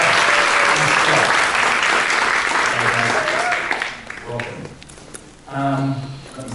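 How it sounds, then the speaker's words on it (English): Keynote audience gives loud sustained applause as a panel comes on stage, the clapping fading after about four seconds into voices and stage movement, with someone speaking near the end. "So will my panel please join me on stage? Big round of applause."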